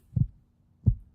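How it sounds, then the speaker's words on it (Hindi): A heartbeat sound effect thumps twice, each a low, muffled double-pulse, with near-silence between the beats. "ये जो दिल की धड़कन आपको यहां सुनाई दे रही है"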